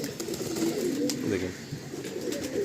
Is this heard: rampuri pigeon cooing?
yes